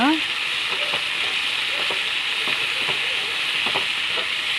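Salted greens sautéing in a pan for a curry leaf and coriander chutney, giving a loud, unbroken frying hiss with light scraping taps of stirring throughout.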